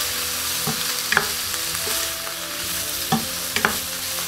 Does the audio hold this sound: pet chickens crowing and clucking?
no